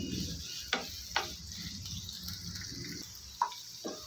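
Sliced onions sauté in a pan for chapati noodles with a soft, steady sizzle, broken by a few sharp taps and clinks of a spatula, quiet and close.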